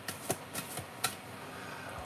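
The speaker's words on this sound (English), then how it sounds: "So I'm going to shuffle a card from each deck before I go." Playing cards being shuffled from a deck, a few soft papery flicks and riffles scattered over a steady quiet room hiss, close and faint with no talk.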